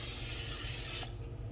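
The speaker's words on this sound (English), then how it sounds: "I'm just gonna spray a bit of cooking oil." Cooking oil spray hisses steadily over raw chicken legs in an air fryer basket, a close continuous burst lasting about a second before cutting off into quieter room noise.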